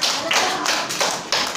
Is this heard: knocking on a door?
yes